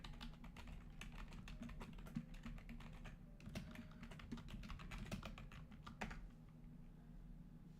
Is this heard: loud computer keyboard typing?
yes